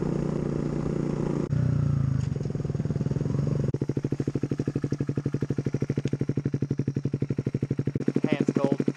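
A cruiser motorcycle rides over sand-covered roads, its engine throbbing in a rapid, pulsing beat that shifts pitch as it speeds up, heard close under wind rush, with a voice briefly speaking near the end.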